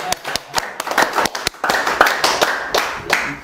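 Clapping from a lecture audience, a sparse run of sharp, separate claps from a few people, fairly close and with no talk over it.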